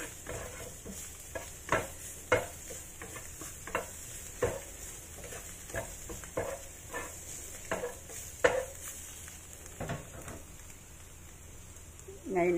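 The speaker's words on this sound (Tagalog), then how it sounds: "Fry lang natin yan hanggang sa lumabas yung amoy, aroma ng garlic at saka yung salted vegetables." Garlic and salted vegetables fry in a pan and are stirred, giving a soft steady sizzle broken by frequent light scrapes and clinks of the utensil, fairly quiet and close.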